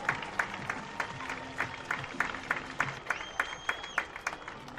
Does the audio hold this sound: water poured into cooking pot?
no